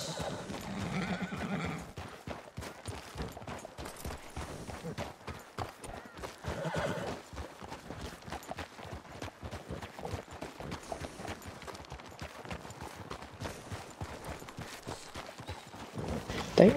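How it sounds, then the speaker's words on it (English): Horse hooves clip-clop steadily through snow in Red Dead Redemption 2 on a group trail ride, a continuous muffled rhythm of several horses with an occasional neigh. "Don't you just love the sound of horse hooves in the snow?"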